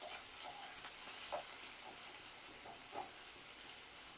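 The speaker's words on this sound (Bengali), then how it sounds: "পেঁয়াজটা দিয়ে দিলাম, দিয়ে এবার পেঁয়াজটাকে একটু লাল লাল করে ভেজে নেব।" Onions frying in hot oil make a steady, soft sizzle with faint scattered stirring taps, continuous and fairly quiet.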